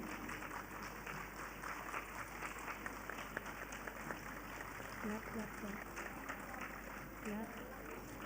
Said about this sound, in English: please do the honors and please keep clapping